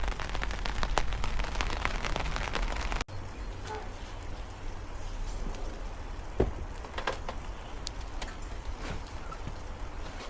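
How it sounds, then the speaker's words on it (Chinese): Rain falling outdoors in wet weather: a dense, loud patter for the first three seconds, then a softer steady wash of rain with scattered individual drops tapping nearby. "下雨呀"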